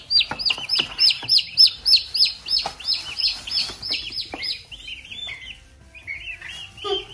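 Baby turkey poults chirping in rapid, high-pitched peeps, several birds calling over one another close by, the chorus thinning out and growing softer toward the end.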